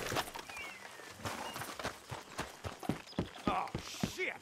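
Horse hooves clop in an irregular walking rhythm in Red Dead Redemption 2, several horses moving close by, with faint voices now and then.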